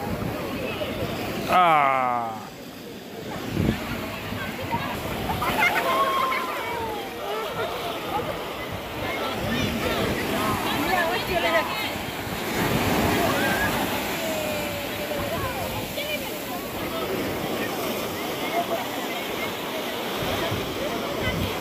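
Sea waves roll and wash onto the sand at Digha beach, a steady broad surf roar that fills the whole stretch with surging swells. Voices can be heard faintly in the background.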